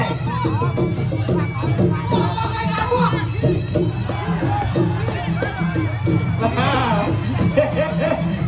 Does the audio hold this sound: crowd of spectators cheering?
yes